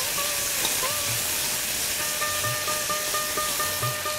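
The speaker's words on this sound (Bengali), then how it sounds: "ক্র্যাকেল করতে শুরু করে গেছে।" Hot oil crackling and sizzling in a pan while frying thor for a chechki, a steady close hiss with faint intermittent pops throughout.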